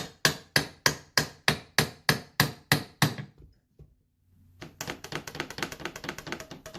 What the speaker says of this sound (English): you can feel the nails and stuff coming out